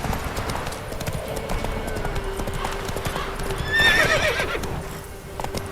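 Roach, the horse in The Witcher 3, gallops with a steady run of hoofbeats and lets out a clear neigh near the middle, over a constant in-game ambient hum.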